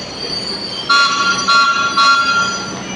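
A train creeps slowly through Tugu station in Yogyakarta, a steady rolling rumble carrying tonal squeals and hums from the wheels and cars, swelling in three pulses as carriages pass close by.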